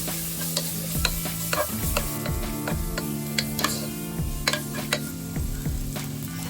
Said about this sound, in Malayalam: ചെറുതായി അരിഞ്ഞ 2 സവാള കൂടി ചേർത്തൊന്ന് മിക്സ് ചെയ്തെടുക്കാം